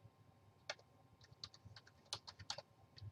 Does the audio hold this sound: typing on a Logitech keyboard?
yes